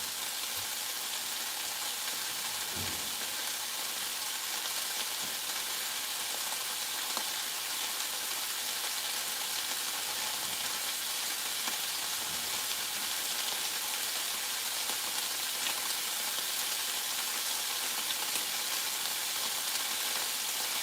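Food for giant homemade nachos sizzling and caramelizing in a pan, a steady, even frying hiss that continues without a break, close up, with no talking.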